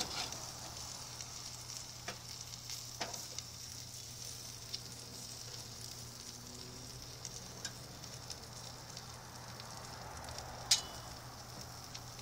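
Lean pork steaks sizzle faintly and steadily on an unoiled outdoor grill, a soft continuous hiss broken by a few small pops and ticks.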